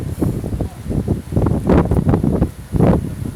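Gusty wind buffets the microphone outdoors beside the water during a fishing outing, rising and falling in loud surges with rustling, and no voices.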